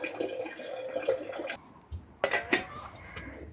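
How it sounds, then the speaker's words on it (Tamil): Half a glass of water poured into a pan of crab masala, giving a few sharp splashes and drips in bursts, with cooking noise before and between them. "ஒரு அரை கிளாஸ் தண்ணி ஊற்றி இருக்கு அதில்."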